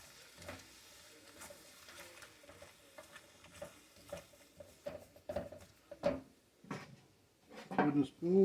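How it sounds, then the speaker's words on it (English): A wooden spoon scrapes fond off the bottom of a pot, giving repeated quiet scrapes and taps that grow louder and more vigorous toward the end, with a faint sizzle underneath. "Wooden spoon, a little more aggression on the bottom, get that fond off."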